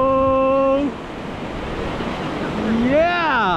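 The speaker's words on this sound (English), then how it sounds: "Here we go, the water's coming, check it out!" Water rushes in with a broad, steady wash like surf, heard close under wind noise, with a voice whooping and calling out over it at the start and end.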